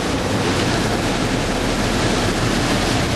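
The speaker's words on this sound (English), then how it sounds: "Listen to the wind." Strong, steady wind from Hurricane Ike in Ohio roars continuously into the microphone, a loud broadband rush with buffeting and no break.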